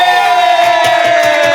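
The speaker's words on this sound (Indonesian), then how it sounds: "Tepuk tangan dong, Pascol." A studio audience cheers and shouts together on a television talk show, with a loud sustained crowd roar and rhythmic bursts that sound like clapping or chanting.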